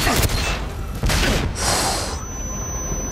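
Grenade blasts from Goldeneye 007 on Wii in the Severnaya Bunker level, a couple of loud booming bursts with crackling tails in quick succession, followed by a bright electronic tone.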